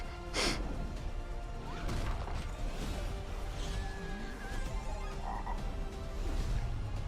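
Frog croaking tied to Frog Luigi in a Super Mario Galaxy Movie trailer, a low croaky sound set within a dense, loud mix of music and effects that runs throughout.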